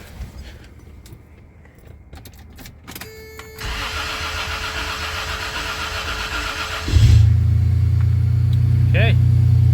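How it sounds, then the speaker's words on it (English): A Toyota T100 pickup cranks and fires up after a fuel tank replacement, settling into a loud, steady idle close by, with a person speaking briefly over the engine. "we're good to fire this thing up. So let's see if she runs."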